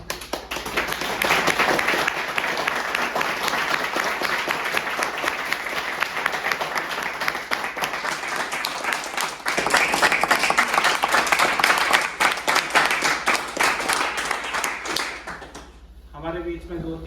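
Loud, sustained audience applause fills a hall at an anniversary gathering, dense clapping swelling further partway through before tapering off near the end, with a voice speaking briefly at the close.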